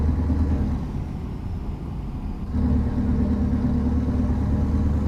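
Truck engine in American Truck Simulator rumbling steadily at idle or low revs, a deep continuous drone that dips slightly midway then returns a bit louder, with no talking over it.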